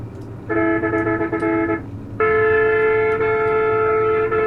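In the game Bus Simulator Indonesia, a bus horn honks in two long sustained blasts, the second louder and longer, over a low engine rumble.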